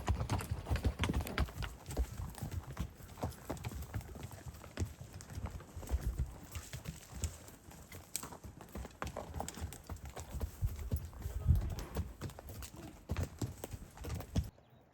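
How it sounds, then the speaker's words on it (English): Horses walking on a multi-day pack trip through forest with fallen timber, a steady irregular clip-clop of hooves close by, with rustling and a soft snort or whinny amid the footfalls. "the horses have been going over a lot"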